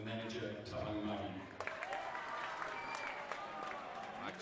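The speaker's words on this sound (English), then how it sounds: "let them clap first" A voice announces team staff over the first second and a half, then a crowd at a sports finals breaks into applause that continues at moderate volume with scattered louder claps.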